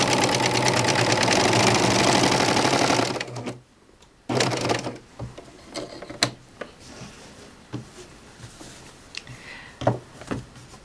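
Serger sewing machine stitching a pillow, running loud and fast for about three seconds, then a short burst, followed by scattered handling clicks and fabric rustles.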